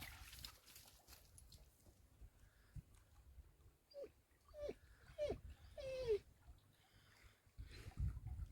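A dog whimpers at a backcountry campsite by a lake, a series of short high whines and one longer drawn-out whine, close and faint against quiet outdoor background.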